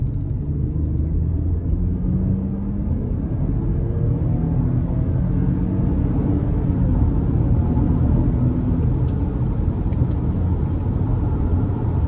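A 2015 Toyota Highlander XLE V6 AWD with 176,000 miles accelerates under throttle, heard from inside the cabin as a steady low engine drone and road rumble that continues without a break.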